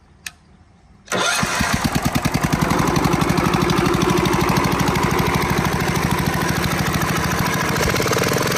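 Kohler K181 single-cylinder engine on a log splitter, freshly fitted with a new carburetor, pops to life after a faint click and settles into a loud, steady rapid thumping run close by, with no talking.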